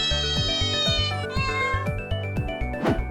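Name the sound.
cat meowing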